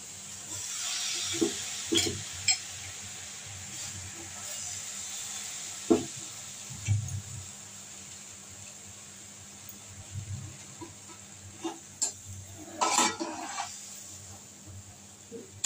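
Malabar spinach going into a hot frying pan for a fish-egg dish, giving a faint, steady sizzle with sporadic clinks and scrapes of stirring, quiet and close.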